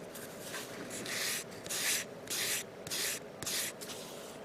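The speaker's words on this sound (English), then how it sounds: "So let me just sand it down." Small plastic model kit part from a Yamato fleet build being sanded by hand, a close, soft scratchy rasp in a regular back-and-forth rhythm of about five or six strokes, quiet and alone.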